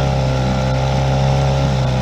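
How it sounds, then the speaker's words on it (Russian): Small boat runs under a Mikatsu 4 hp outboard motor, a loud, steady droning engine note with water rush, continuous and close throughout. "Ну вот сейчас веселее лодка идет."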